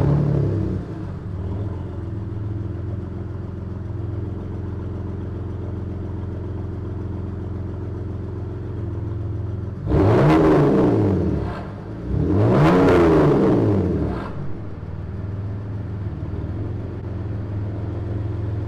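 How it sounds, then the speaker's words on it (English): A BMW E92 with its resonator and muffler removed idles with a deep, steady exhaust rumble, then is revved hard twice in quick succession, each rise and fall of the engine loud and close. "I'm gonna go ahead and show y'all how the exhaust sounds"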